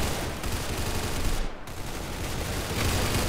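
Automatic M4A1 fire in Roblox Arsenal, a steady, dense stream of rapid shots running through the whole stretch at moderate loudness, with no talk.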